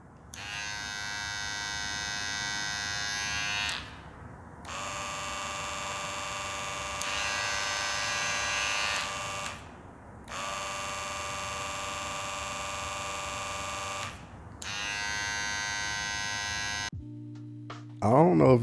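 Wahl cordless hair clippers, a Cordless Senior and a Cordless Detailer Li, buzz steadily in several long runs separated by short pauses, loud and close, with a brief clatter of handling at the end.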